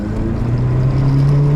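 Close, loud engine of a Honda-powered drift car, holding a steady droning rev that climbs slightly in pitch over the short stretch.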